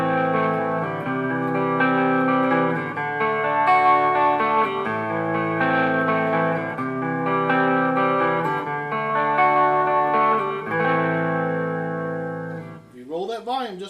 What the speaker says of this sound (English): Now we're going to take it up to the rhythm pickup, and we're going to play with the volume turned all the way up first.